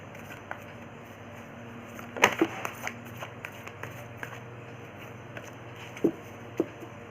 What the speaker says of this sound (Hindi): सो मैं कार्ड को शफल कर लेती हूँ।